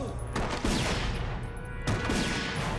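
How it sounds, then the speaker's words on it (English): Gunfire on the set of a Supernatural TV episode: two loud volleys of rapid shots about a second and a half apart, each a dense crackling burst. "I don't think we have gunfire on the call sheet today, Lynn."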